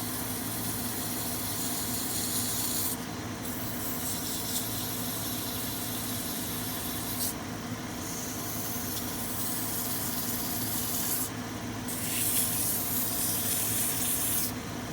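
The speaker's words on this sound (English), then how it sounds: "Notice I have not slowed it down." A turned wooden snowman is sanded on a spinning lathe at full speed, making a steady, close hiss and rub with broadband friction noise that brightens in several short bursts as the abrasive is pressed on.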